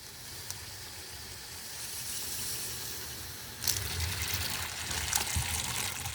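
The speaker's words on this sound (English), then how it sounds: "I'm going to go turn the water on" Tap water runs through the filters of a home dialysis setup: a steady, moderate hiss of flowing water that surges louder partway through and continues unbroken.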